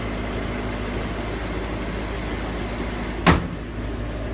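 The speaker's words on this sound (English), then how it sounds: "Good slam on the hood, like they all like." The hood of an Alpina B6 car slammed shut once, a loud close thud rising briefly above a steady engine-like background hum.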